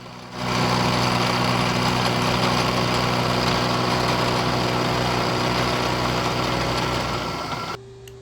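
Kearney & Trecker 2HL milling machine squaring off a bracket, a loud steady machine hum with a broad cutting roar that starts abruptly, holds for about seven seconds, then drops away to a quieter motor whine.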